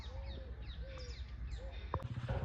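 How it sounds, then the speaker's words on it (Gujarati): Birds at Thol Lake bird sanctuary give a few faint chirps and short calls over a low background rumble, with no talking. "પક્ષીઓ"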